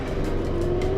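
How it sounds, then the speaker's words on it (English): Motor of a traditional sailboat leaving Shella near Lamu, Kenya, a close, steady droning hum with a fixed pitch and no voices. "They're just using the motor right now until we get a little further out to the open water"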